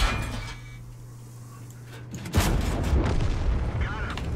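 Artillery fire in the tank battle game World of Tanks: after a quiet stretch with a low engine hum, a single heavy, close boom bursts in and leaves a loud, rumbling wash of battle noise.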